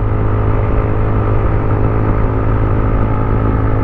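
A Motorstar Cafe 150 motorcycle engine drones steadily while riding at moderate speed in 4th gear, a dense, continuous mid-pitched hum with no breaks and no voices.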